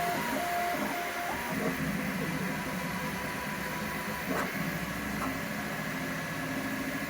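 A Bambu Lab X1 Carbon 3D printer with an AMS unit runs at high speed, producing a loud, steady whir and buzz of motors and fans. The sound is close and continuous for about seven seconds, with a few faint clicks and no voices.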